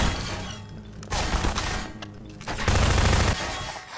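Rockets and gunfire blast repeatedly in a Half-Life firefight, several loud booming explosions and bursts of shots crowding together in close succession.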